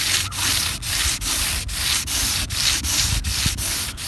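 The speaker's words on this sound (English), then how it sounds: "I've got to remove these roller marks before we clear. So, a light sanding." Light hand sanding of a painted boat hull to remove roller marks, steady rhythmic back-and-forth rasping strokes, about ten evenly spaced passes, close and clear with no talking.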